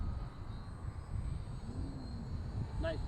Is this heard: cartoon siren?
no